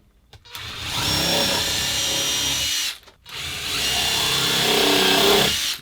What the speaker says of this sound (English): pre-drilling my pilot holes